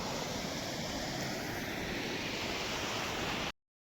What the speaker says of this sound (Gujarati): કેટલું મસ્ત પાણી આવે.